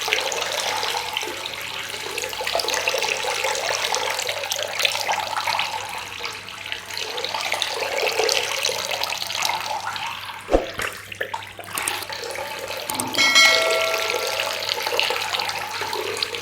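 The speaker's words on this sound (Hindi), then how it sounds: "तो पानी अपने आप ही फिर सिर से टच हो करके जाने लग जाता है।" A steady stream of water pours over a person's head as a home remedy for low blood pressure, a continuous splashing rush like running tap water, briefly interrupted by a knock and shuffle near the end, with no speech.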